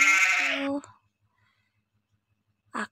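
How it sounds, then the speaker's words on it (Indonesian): A single sheep gives a loud, close bleat lasting under a second, followed by near silence and then a short voiced sound at the end. "Domba"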